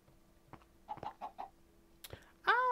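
A Minecraft chicken in a modded 1.20.1 game clucks in a short burst of bright, warbling calls near the end, following a few quieter game sounds.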